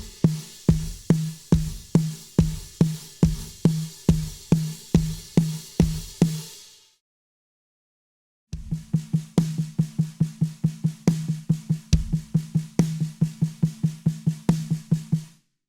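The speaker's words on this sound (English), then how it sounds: "instead of having the right hand on the ride or the floor tom, you can add it to an open hi-hat" A drum kit plays a worship groove, first a steady pattern of deep hits, then after a brief silence a busier pattern with the right hand on an open hi-hat, adding bright sizzling washes over the beat.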